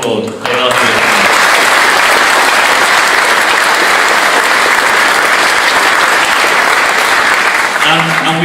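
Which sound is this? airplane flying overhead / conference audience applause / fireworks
conference audience applause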